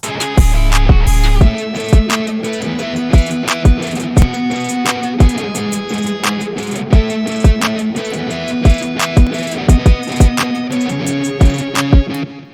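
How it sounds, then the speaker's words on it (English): A pop punk beat with sharp, regular drum hits and ticking hi-hats drives under chugging guitars, loud and upfront with no talking. "So the hi-hats are really going to make a statement."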